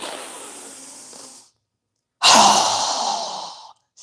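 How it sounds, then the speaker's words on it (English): Two strong, fast exhales pushed out through the mouth during a guided breathing exercise, each a loud breathy rush lasting over a second, separated by a short silence, with no talking. "exhale through our mouth with a strong, fast breath as we quickly lower our arms and hands down"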